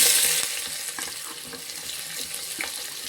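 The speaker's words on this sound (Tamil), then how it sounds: "இப்போ வெங்காயம் போட்டுக்கிறோம்." Onions drop into a little oil for chicken biryani, giving a loud hiss that settles into a steady bubbling sizzle with faint stirring clicks.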